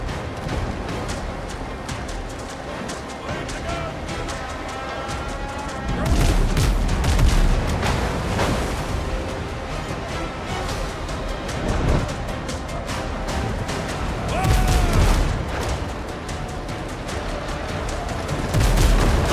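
Ship gunfire in a naval battle in the video game Windrose, a dense continuous din of cannon booms and crackling shots, with heavier blasts rising every few seconds over a steady rumbling bed of game sound.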